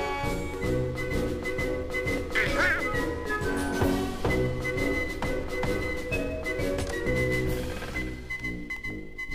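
Donald Duck's nasal quacking voice in the video game Kingdom Hearts, a continuous run of raspy duck-like chatter over game music, loud and close.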